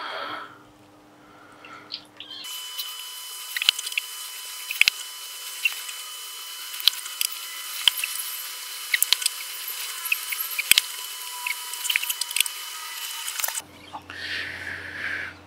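Water runs steadily, spraying and splashing as soapy residue is rinsed off a telescope part, with small clicks and drips scattered through the flow, starting and stopping abruptly and heard close up without talk.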